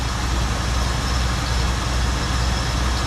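A 1974 Ford Bronco engine runs at high idle, giving a steady, loud, rumbling drone that holds constant without any talk.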